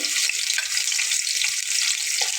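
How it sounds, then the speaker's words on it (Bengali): Pieces of a large scaleless fish slide one by one into hot oil for a Bengali fish curry, setting off a loud, continuous sizzling hiss with crackly spatters close up. "দেখুন তেলটা কিন্তু আমার গরম হয়ে গেছে এখন আমি মাছগুলোকে একে একে দিয়ে নেব"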